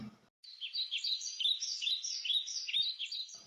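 A parrot chirps in a rapid, high-pitched warbling series, fairly clear and close, after a brief low sound and a moment of silence, with a single soft tap partway through.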